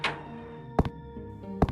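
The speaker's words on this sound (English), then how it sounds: "She closed the door and leaned against it, listening." A door closing sound effect in an audiobook gives two solid wooden thunks close together, each with a short rattling after-knock, over a faint background tone with no speech.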